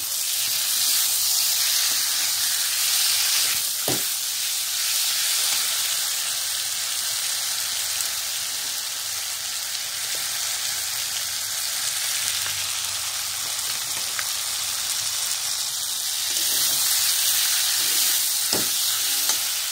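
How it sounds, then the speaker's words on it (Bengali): Boiled spice paste fries in a pan for an egg curry, a steady close-up sizzle and hiss with occasional soft clicks of stirring, continuous and fairly loud with no talking. "এই আমি মশলা দিয়ে দিয়েছি, একটু ভেজে নেব।"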